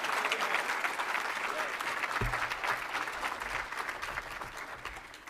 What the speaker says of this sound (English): Again, please keep the applause going for Dr. Matthews.